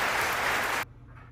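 A short burst of applause, dense clapping that stops abruptly after less than a second and leaves near silence.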